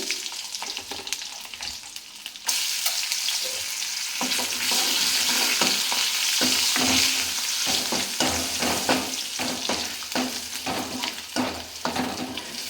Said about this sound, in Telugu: ఇదైతే వేగించుకోవాలండి ఇలాగా వేగించుకొని